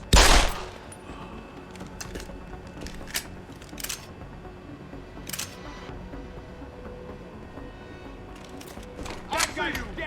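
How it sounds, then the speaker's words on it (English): Sharp gunshots crack out in Deus Ex: Human Revolution Director's Cut in a scattered series, one loud burst at the start and more spaced shots later, over a busy background with some voices. "Gunshots!"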